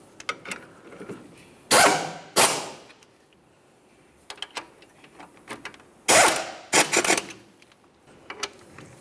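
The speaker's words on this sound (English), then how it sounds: "torque each of them to 79 foot-pounds" A wrench works on front brake caliper bolts on a 2009–2010 Pontiac Vibe, with bursts of close ratcheting mixed with scattered clicks and small metallic knocks, alone with no talk.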